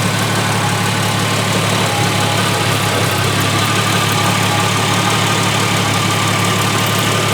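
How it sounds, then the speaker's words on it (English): A 1973 Plymouth Duster's engine idles steadily after a few minutes of warming up, a loud, continuous low rumble with a constant hum and no voices over it. "And now it's had a few minutes to idle."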